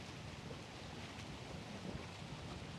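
Wind blows steadily at a fishing dock, a constant broadband rush and rumble buffeting the microphone with no pauses, fairly quiet overall.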